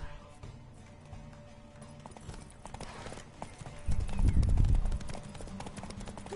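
Horse hooves in a video game (The Witcher 3) clip-clop in a quick gallop rhythm, growing louder and heavier near the end, with talking voices mixed in.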